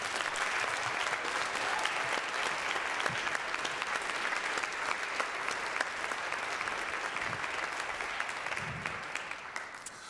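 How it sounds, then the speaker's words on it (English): An audience at a college civil rights lecture breaks into sustained applause, a dense, even wash of many hands clapping that holds steady for about ten seconds and tapers slightly at the end. "Please give him another round of applause."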